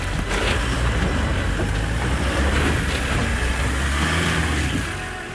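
Toyota HiLux GR engine working hard on a steep off-road climb, a loud continuous low rumble with rattles and strain throughout, easing slightly at the very end.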